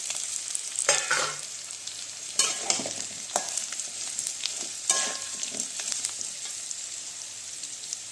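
Potato pieces fry with asafoetida in a pan, giving a continuous close hiss and sizzle broken by a few louder scraping stirs.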